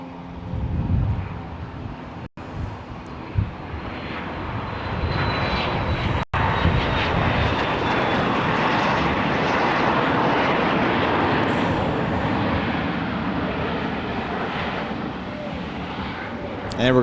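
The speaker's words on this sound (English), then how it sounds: "we're going to have lots of private jets still going off the runway today" A private jet roars down the airport runway on departure, a loud sustained broadband engine rush that builds and holds, with gusty wind buffeting the microphone and brief clicks.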